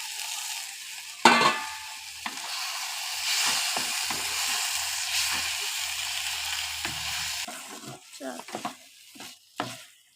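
Prawns cook in a pan with taro leaves, turmeric, chili, salt and a little sugar, giving a bright hissing sizzle that starts abruptly, holds for several seconds, then gives way to scattered clinks of stirring.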